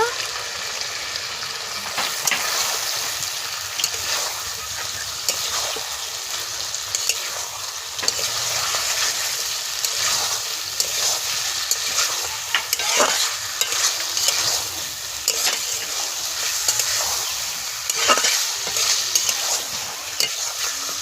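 Village-style chicken curry with capsicum stir-fried in a pan, a loud, steady sizzle with repeated scraping stirs over about twenty seconds, with no voices.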